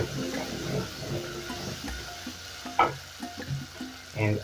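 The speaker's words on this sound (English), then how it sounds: "Then I'll add in my tomato paste." Tomato paste sizzles softly in a pan for chickpea curry, a faint steady fry with light stirring scrapes and small pops and clicks scattered throughout.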